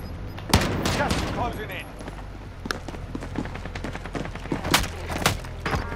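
AK rifle fire in Call of Duty Modern Warfare on Rebirth Island, scattered single shots and short bursts over a low rumble of game ambience, with someone talking over it.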